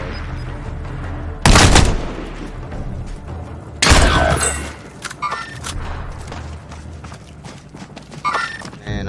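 Sniper gunfire in a shooting video game, two loud heavy shots a couple of seconds apart, each with a booming tail, followed by quieter clatter and mechanical handling sounds.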